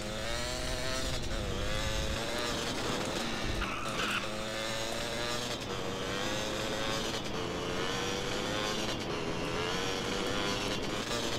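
A motorcycle engine in the video game DayZ (MTA DayZ) revs continuously and loudly, pitch rising and falling with acceleration, along with tire-skid sounds, close up and sustained throughout.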